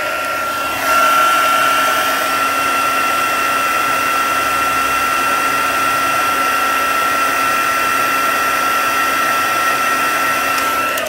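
A heat tool blows steadily and loudly while heat-setting embossing powder on an art journal page, switching on after a second and holding a constant whirring hiss with a faint tonal whine to the end.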